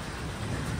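Hail falling with heavy rain during a storm, a dense, steady roar of pelting drops and hard strikes close by, continuous for the whole moment with no voices.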